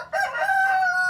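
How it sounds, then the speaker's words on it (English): A free-ranging feral town chicken lets out one loud, close crow, a single drawn-out call that holds steady before fading. "Chickens have been free-ranging around town for as long as anyone can remember."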